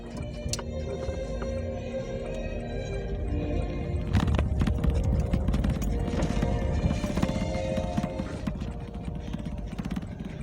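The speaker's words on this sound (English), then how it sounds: "Nice Dartmoor pony." Dartmoor ponies walk over hard ground outdoors, their hooves clip-clopping in an uneven, close rhythm amid wind and faint background sounds.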